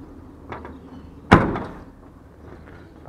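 A Mercedes 608 truck cab door closes after its worn door striker was replaced, one solid thud with a short rattle afterward, near and loud over quiet background.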